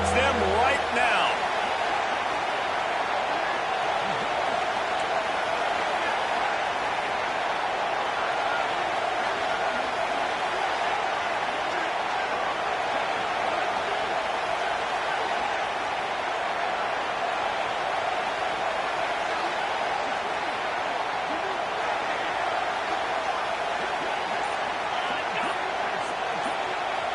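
A stadium crowd at a USC football game keeps up a loud, sustained roar that holds steady throughout, with voices blending into a continuous wall of noise.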